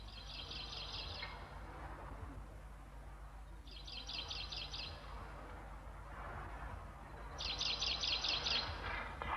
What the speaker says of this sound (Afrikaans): Die koester het 'n kenmerkende roep.